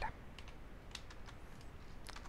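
Soft clicking of keys on a computer keyboard, several quiet taps spread irregularly over low background hiss, with no talking.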